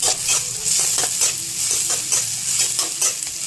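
Capsicum, with tomato, roasting in oil in a pan for paneer bhurji, giving a steady bright sizzle with repeated stirring scrapes throughout, close and fairly loud, with no voices.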